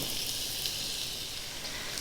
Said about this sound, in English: So our beef is browning